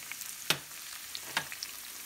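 Garlic and leek fry in a pan with a steady close sizzle, broken by two sharp clicks of a utensil against the pan.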